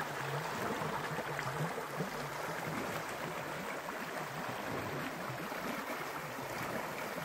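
The Than Khola river streams past in a steady, even rush of flowing water that holds unchanged throughout, with no voices.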